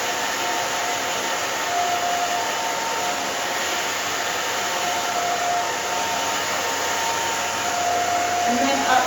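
A hair dryer runs steadily and fairly loud throughout while blow-drying a woman's freshly cut hair for volume in a salon setting, a continuous broadband whoosh with no talk over it.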